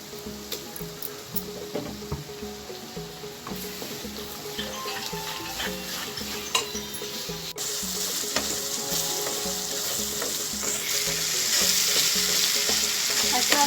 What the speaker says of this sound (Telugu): ఇది అల్లం వెల్లుల్లి పేస్ట్ అండి. బాగా వేయించుకోవాలి పచ్చివాసన రాకుండా.